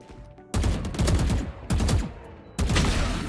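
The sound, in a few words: gunfire in a video game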